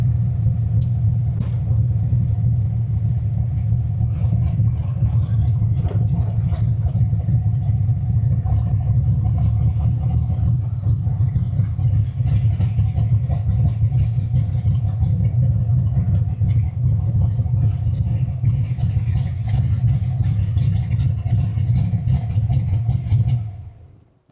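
Drag car with a Ford engine running, a loud, constant, deep rumbling engine note that holds steady close by for about twenty seconds, then cuts off abruptly.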